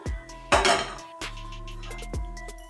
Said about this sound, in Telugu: ముందు స్టవ్ ఆన్ చేసుకొని ప్యాన్ పెట్టుకోవాలి.